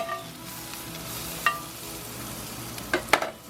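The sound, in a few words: onion and mushrooms frying on a griddle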